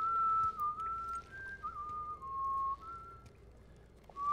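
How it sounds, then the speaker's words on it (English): Someone whistles a wavering tune, steady and fairly close, with brief pauses between phrases and no talking. "What is he whistling?"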